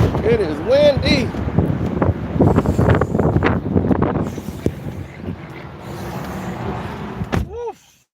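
Strong wind buffets the microphone in gusty rushes, nearly drowning out a voice talking loudly over it.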